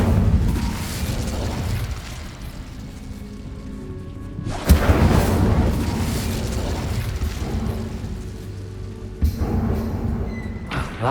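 The Incendio fire spell is cast in the video game Hogwarts Legacy, bursting in a heavy whooshing boom over a low rumbling game ambience, followed by a second sharper burst later.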